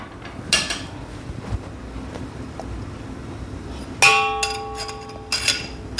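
A perforated metal plate drops into a sev (shevaya) press with a bright metallic clank that rings on briefly, followed by a smaller clink near the end, close by in a quiet kitchen.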